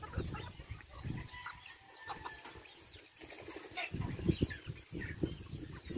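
Jesse's chickens on a farm cluck and call in scattered bursts, close and fairly clear over a soft, busy outdoor background, with no voices.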